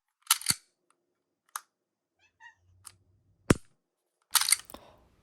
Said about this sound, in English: I can consistently pull that trigger up to the wall without breaking it, and the break itself is just very clean